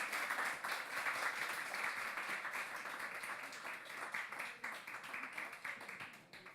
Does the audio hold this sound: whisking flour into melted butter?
no